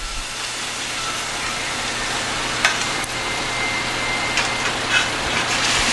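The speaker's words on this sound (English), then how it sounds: "I'm going to start dropping the fritters inside the frying pan." Fritters dropped into a pan of hot oil, a steady close hiss and sizzle with a few faint pops and clicks, no one talking.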